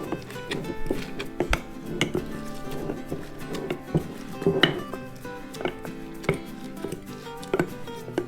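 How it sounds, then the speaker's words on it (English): A big wooden spoon packs fermenting vegetables down into a jar, giving a run of dull, irregular thumps and soft scraping knocks, close and fairly quiet, with no talking. "I use just a big wooden spoon"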